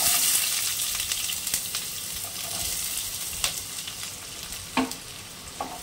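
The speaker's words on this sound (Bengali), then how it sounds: "কড়াতে সর্ষের তেল দিয়েছি, তেলটা গরম হয়ে গেছে। এখানে পেঁয়াজ কাটা আছে দুটো, দিয়ে দিচ্ছি।" Chopped onions fry in hot mustard oil in a wok, a steady close sizzle with a few brief stirring scrapes and no voices.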